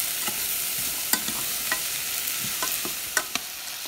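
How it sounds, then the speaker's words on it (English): Soft scraping and clinking of a spoon stirring vegetable soup in a pot, irregular strokes over a gentle background sizzle, no voices. "Give it a stir, so it doesn't stick."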